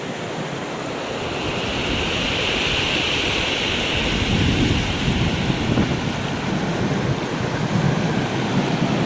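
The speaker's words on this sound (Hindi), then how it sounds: "ये है कोसी नदी।" The Kosi river flows steadily beside a bridge at Chukam village, a dense, even rush of water that stays loud throughout, with no voices.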